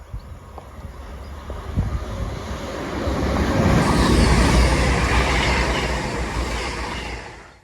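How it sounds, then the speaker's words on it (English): A CrossCountry class 221 diesel passenger train from Manchester Piccadilly to Bournemouth runs past near Oxford, rumble building to a loud close roar and then receding, with wind buffeting the microphone and a faint high tone early on. "about to pass through is going to be a cross country service running from Manchester Piccadilly to Bournemouth"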